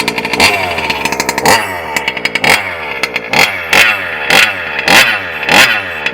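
A Losi 5T RC car's small engine revs up and down in repeated rising and falling bursts, loud and close, with a buzzy, rattling tone and no talking.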